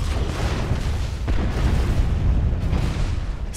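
Explosion in the real-time strategy video game Supreme Commander, a loud, dense booming rumble that holds steady for several seconds with no clear break.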